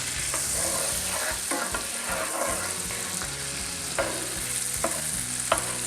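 Butter popping and sizzling in a black iron skillet as raw cauliflower cooks, a dense steady fry with occasional stirring scrapes and small pops, close and without speech.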